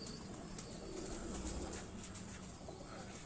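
Pigeons of a tiger breed and a dub-coloured breed coo softly and continuously in a loft, a low murmuring under steady background noise, with no talk.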